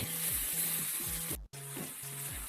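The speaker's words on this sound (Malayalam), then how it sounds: "അപ്പോൾ ഉള്ളി നന്നായിട്ടൊന്ന് മൂത്ത് വരട്ടെ" Onions fry in hot oil for a curd curry, giving a steady close sizzle with rhythmic stirring scrapes throughout and one very brief cut near the middle.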